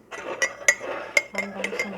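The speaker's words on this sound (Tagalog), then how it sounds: "Ito, haluin lang natin." A spoon stirs a honey and cinnamon cough remedy, clinking sharply against the container several times in an uneven rhythm, close and clear.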